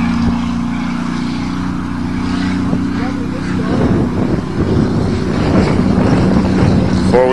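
A new Ford truck with a 5.4 engine runs off-road in four-wheel drive, giving a steady droning engine hum that grows rougher and busier as it picks up, while people talk over it.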